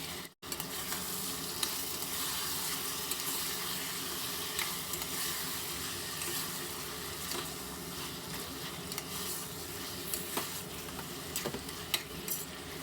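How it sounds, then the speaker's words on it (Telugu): Country chicken pieces frying in oil with ginger garlic paste for a natu kodi curry, a dense continuous loud sizzle with occasional faint clicks of stirring, close and without talk. "ఇప్పుడు డైరెక్ట్గా ఈ చికెన్ని ఇలానే డైరెక్ట్గా వేసేసి ఆయిల్లో బాగా ఫ్రై చేసుకుందాము"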